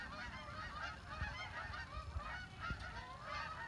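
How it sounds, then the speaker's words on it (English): Flock of geese honking repeatedly as they fly south over an autumn garden, a steady chorus of overlapping calls carrying from a moderate distance with no talk. "Oh look, there's all the geese flying south"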